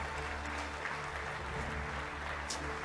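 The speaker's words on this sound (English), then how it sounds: "I think the applause should continue because here's a living legend." An audience at an award ceremony applauds R C Bhargava, chairman of Maruti Suzuki India, with steady, even clapping throughout, heard from a distance and fairly quiet.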